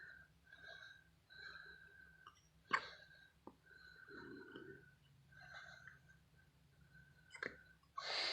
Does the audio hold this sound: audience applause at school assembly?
no